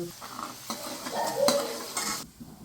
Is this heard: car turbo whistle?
no